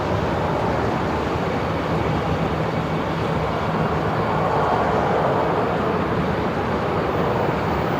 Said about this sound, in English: we're just seeing Qantas 94 there, just beginning its taxi